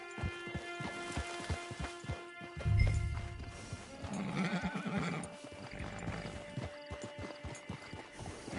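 A horse in the video game Red Dead Redemption 2 Online whinnies loudly amid rhythmic clip-clop of hooves, with a low snort and steady hoofbeats continuing afterward.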